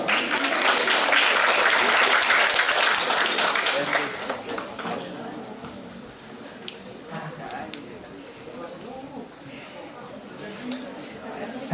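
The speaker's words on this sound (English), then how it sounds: "Let's give our big round of applause." Audience applause at a public health seminar greeting a speaker coming to the stage, a loud dense burst of clapping for about four seconds that fades to scattered claps and room murmur.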